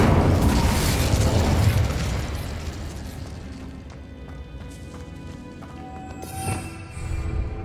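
A Confringo blasting spell bursts in Hogwarts Legacy, a loud, dense boom that rumbles and fades over several seconds, followed by a smaller crackling burst near the end, with game effects underneath and no talk.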